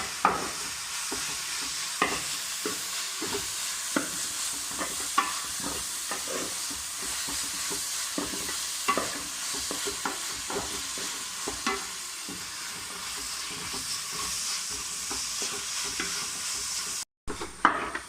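Chopped tomatoes sauté in a pan for Kerala-style chicken curry, giving a steady close sizzle with frequent scrapes and stirs of a spoon throughout, and no one speaking.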